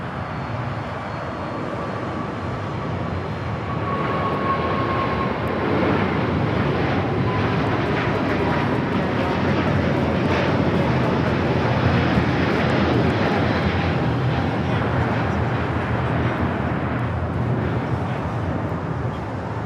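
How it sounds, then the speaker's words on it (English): A Delta Airbus A350-900 taking off at LAX in Los Angeles, a loud sustained jet engine roar that swells slightly and holds steady for nearly twenty seconds, with no talk over it. "We have the 350-900 with Delta taking off."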